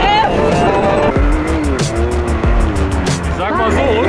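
Stunt driving in Tehran: a car's engine revs hard and its tires squeal and skid in repeated sweeping bursts, loud and close, with people reacting excitedly under it.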